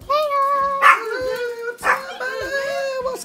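Big dog vocalizing with tonal, whining yips and bark-like bursts in several close, loud calls at a birthday celebration, overlapping with voices.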